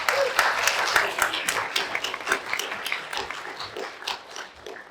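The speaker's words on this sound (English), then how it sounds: "Maybe we give them all another round of applause." Audience applause for the speakers at a panel debate on AI and existential risk, a dense pattering of many hands clapping for about five seconds that slowly thins out, with some talking mixed in.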